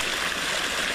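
Water runs steadily while plants are being watered, a continuous close hiss and splash without pauses or talk.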